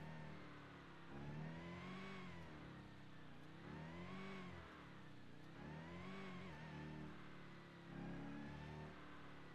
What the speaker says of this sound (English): I'm in a supercharged Hellcat.